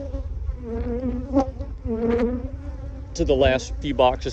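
Honey bees from a large colony buzz steadily through a hive inspection, a continuous close drone running under a man's speech throughout.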